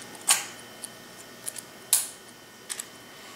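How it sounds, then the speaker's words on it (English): A Canonet QL17 film camera's rewind knob pulled up to open the back, giving two sharp mechanical clicks and a few faint ticks, close and quiet. "your rewind right there, which also opens the camera when you pull up on it"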